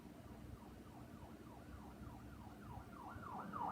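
An ambulance siren wails in repeated rising and falling sweeps, distant at first and growing louder as it approaches over low traffic rumble.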